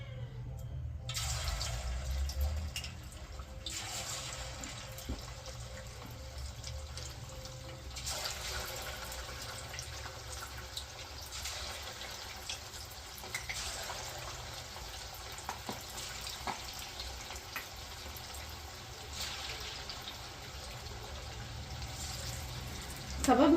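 Marinated chicken kebab pieces sizzling in hot oil on a high flame in a home kitchen, a steady broadband hiss and crackle running continuously and fairly loud, with a few sharper pops, no talking.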